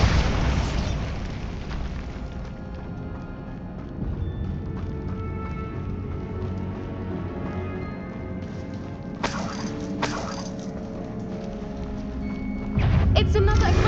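Spell blasts and booming impacts in a Hogwarts Legacy cave battle, several sharp bursts over a steady bed of game music and ambience, with a voice calling out spells.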